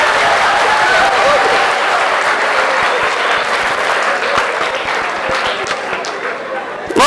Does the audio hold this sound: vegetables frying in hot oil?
no